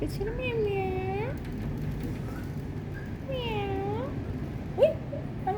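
A cat meows twice in long, wavering cries, close and clear, with a short squeak near the end over low background noise.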